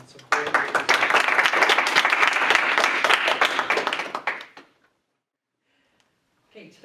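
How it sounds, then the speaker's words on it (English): An audience applauds a speaker, a full burst of many hands clapping that runs for about four seconds, then fades quickly into silence, followed by a faint rustle. "let's have an applause for Mohan and Supporting the Deserved"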